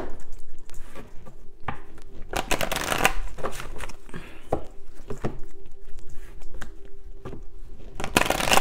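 An oracle card deck being shuffled by hand in repeated bursts of riffling and sliding card noise, fairly close and moderately quiet, with short pauses between bursts.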